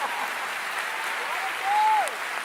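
A congregation applauds at a Christian gathering, a broad, sustained wash of clapping that swells slightly near the end, with a brief whistle-like tone gliding through the middle of it.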